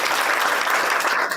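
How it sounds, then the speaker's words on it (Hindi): Dense, loud applause from a crowd of students at a village school gathering, continuous clapping filling the whole moment without pause. "एक बार सब इनके लिए ताली जरूर बजाइए।"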